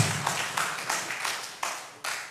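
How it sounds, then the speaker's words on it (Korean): Applause from a church congregation welcoming newcomers: a run of distinct, fairly close hand-clapping bursts at an uneven rhythm, some sharper than others, with a faint voice underneath. "박수로 한번 축하하겠습니다."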